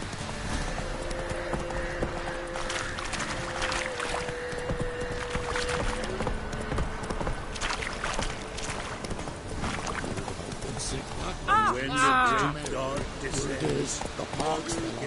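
Horse hooves clip-clop in a steady trotting rhythm over continuous background noise, with a brief whinny-like sound near the end and voices nearby.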